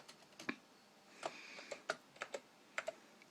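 Keys clack slowly on a Power Macintosh 5400 keyboard, a quiet, close sequence of about a dozen separate one-handed keystrokes at an uneven pace.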